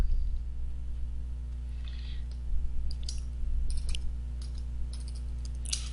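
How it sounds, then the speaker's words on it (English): A computer mouse clicking a few times while working in a logo design program, faint sharp clicks spread across the clip over a steady low hum. "click right on top of the beginning of the word"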